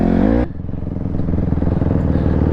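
A 150cc dirt bike engine runs nearby with a rough, loud idle that clatters and sputters after a brief higher rev at the start, sustained to the end.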